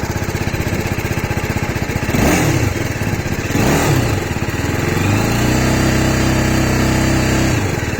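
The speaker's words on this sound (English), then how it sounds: "Let me just fire up the engine for you to hear the exhaust note." TVS Apache RR 310 BS6 motorcycle engine running close by, a steady idle with two sharp throttle blips, then a sustained higher rev held before dropping off.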